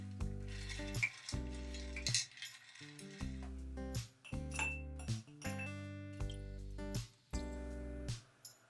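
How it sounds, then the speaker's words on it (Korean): Ice cubes clink and knock against glass as an Earl Grey-style iced tea cocktail with orange juice and agave syrup is stirred, giving repeated bright chinks in short bursts close by, with no talking. "이제 얼음을 가득 채워서 한번 섞어줍니다"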